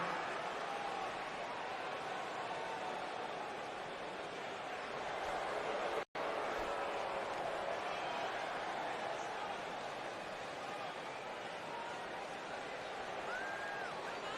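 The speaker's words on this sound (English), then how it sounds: "the crowd is chanting, Ruby, Ruby, Ruby." Wrestling arena crowd at a women's main roster debut match, a steady dense roar of many voices rhythmically chanting a wrestler's name, continuous and fairly loud throughout with one brief dropout midway.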